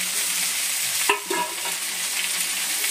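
Spice paste and two small chopped tomatoes sizzle with chicken for a mixed-vegetable curry, a dense continuous frying hiss broken by one brief scrape of the stirring spoon midway.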